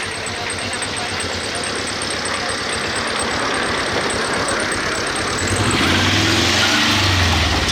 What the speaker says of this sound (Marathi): हे महाराज लोकांची गाडी चालली